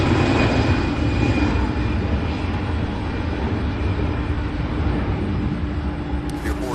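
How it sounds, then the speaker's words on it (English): American Airlines flight 5602 bound for Washington, D.C. taking off at Louisville's SDF airport, a loud, steady jet engine roar filling the whole stretch, broad and sustained from start to finish with no voices. "Flight here heading to Washington, D.C. with American Airlines 5602. Taking off"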